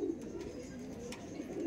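Homebred Fulshira pigeons coo softly in a loft, a faint, continuous low murmur of calls throughout.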